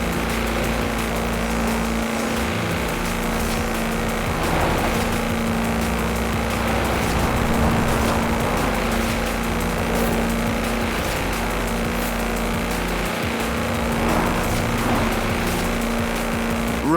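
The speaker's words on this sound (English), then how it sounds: "That's a new tractor speed record and some impressively fast farming" In Forza Horizon 4, a tractor on 4-inch mud tyres runs its engine hard in a constant, droning roar that stays loud throughout and never drops away.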